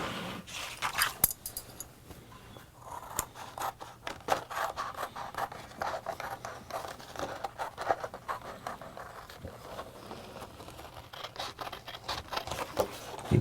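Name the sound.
scissors cutting out sandal sole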